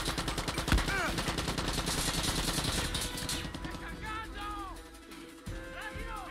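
Gunfire in the video game Far Cry 6, rapid bursts of shots at first, then scattered single shots and metallic effects fading under faint background sounds.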